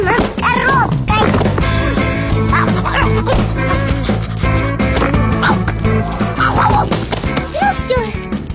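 Cartoon dog barking, yipping and whimpering in loud, rapid bursts over a busy animated soundtrack with music and effects, with characters speaking around it.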